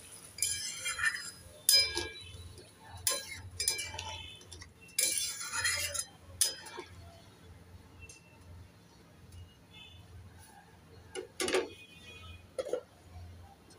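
A utensil stirs bhindi and potato curry with added water in a pot, producing intermittent scraping and clinking bursts at a moderate distance, separated by quiet pauses.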